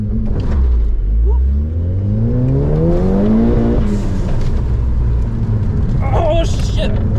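A race car at an autocross event accelerates hard, its engine note climbing steadily in pitch through the gears, loud and close, then cutting off as excited voices and shouts break in.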